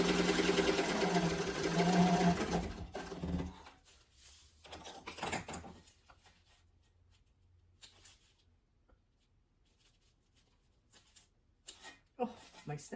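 A sewing machine stitching a seam on a fabric sling bag, its fast buzzing whir loud and close for about three seconds, then giving way to quiet handling sounds, faint clicks and soft rustles.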